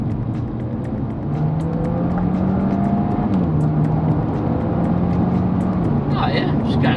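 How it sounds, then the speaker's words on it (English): A car pulls up a freeway on-ramp in second gear, its engine note rising steadily and loud in the cabin with road roar beneath, a brief tone dip partway through as revs build. "So freeway on ramp, put it in second."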